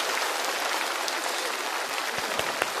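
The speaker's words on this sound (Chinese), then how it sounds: "掌声再次鼓励" Steady audience applause at a Chinese roast comedy show, a dense even wash of clapping that holds at moderate level throughout, with no voices over it.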